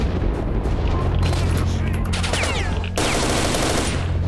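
Player gunfire in S.T.A.L.K.E.R.: Shadow of Chernobyl, a close, loud burst of rapid shots with booming echoes. A short gap follows before another dense volley, with a voice partly mixed in.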